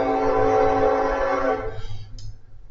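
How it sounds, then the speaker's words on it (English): A passing train rumbles loud and close with a steady, grinding roar that fades away after a couple of seconds, leaving a brief faint squeal at the end. "Great, there's a train coming."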